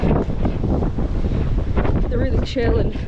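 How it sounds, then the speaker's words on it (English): Strong wind buffeting the microphone on a hilltop along the Cumbria Way in winter, a heavy continuous low roar with gusts, and a person talking over it. "I'm so sorry for the wind, super windy up here."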